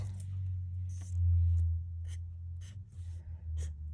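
A marker tip scratches in short, repeated strokes across paper flower petals laid on scrap copy paper, close and soft over a low steady hum.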